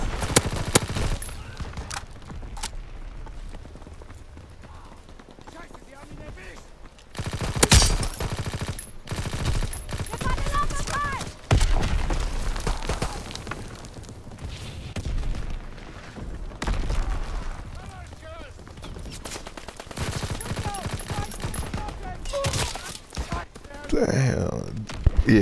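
Gunfire rattles through a Call of Duty WWII multiplayer match, with bursts of automatic fire and loud booms scattered across the stretch while players talk over it.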